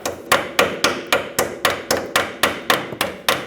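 On a Ford E-350, a brake hose clip is driven into place with a steady series of about thirteen sharp metallic hammer taps, evenly spaced and close.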